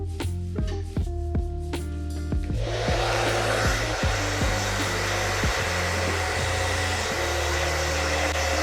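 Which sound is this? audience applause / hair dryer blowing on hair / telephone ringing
hair dryer blowing on hair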